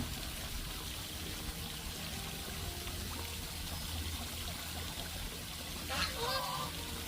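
Geese and ducks at the water's edge, with a single brief honk breaking through a quiet background of trickling water near the end.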